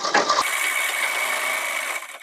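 A sewing machine runs continuously while stitching a men's pathani kurta. After a brief fumbling start, it settles into a close, steady, even whir that tapers off at the end, with no talk.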